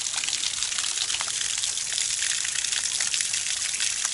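A waterfall in open countryside gives off a steady, broad rushing roar, loud and unbroken throughout with no voices over it.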